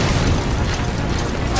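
A Honey Bee missile launcher explosion booms in Metal Gear Solid 5, a loud, dense rumbling blast that fills the short moment without a pause.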